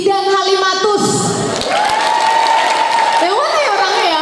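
A crowd at the 71st anniversary celebration of the midwives' association IBI in Tanah Bumbu applauds midwife Halimatus: loud, continuous clapping with high shouting and cheering voices rising over it.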